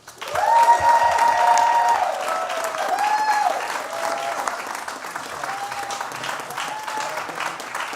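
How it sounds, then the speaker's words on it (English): Applause from a small crowd at a livestreamed live music show, clapping swelling quickly then holding steady for several seconds, with a few cheers and whistles mixed in. "Put your hands together."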